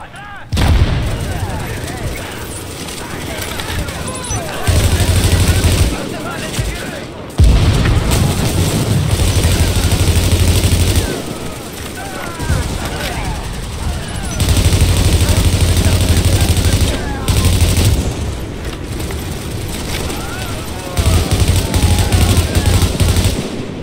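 Gunfire and explosions in a firefight in The Division video game, dense bursts of automatic fire and booms with brief pauses, loud and continuous, with players talking over it.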